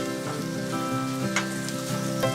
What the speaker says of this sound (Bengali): এবার এর মধ্যে টমেটো কুচি দিয়ে পরিমাণ মতো লবণ দিয়ে নাড়াচাড়া করে ভেজে নিতে হবে